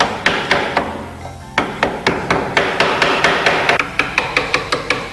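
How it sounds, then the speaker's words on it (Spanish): A hammer strikes a wood chisel while hollowing out a box for a wooden wheelbarrow: sharp, loud, closely spaced knocks, about twenty in steady bursts, with a brief pause after the first few blows. "damos unos golpes, siempre con el martillo en esta posición"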